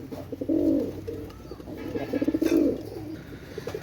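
Pair of Pakistani pigeons cooing close by, two bursts of low throaty coos, one early and one later, with soft bird background between.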